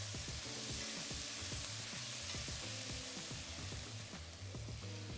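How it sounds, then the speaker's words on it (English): Onions sautéing in a Le Creuset Signature Dutch oven give a steady, close sizzle with a low hum beneath and repeated soft knocks of stirring, and no one speaks. "First, we'll add the onions and saute them just for a minute so that they soften up."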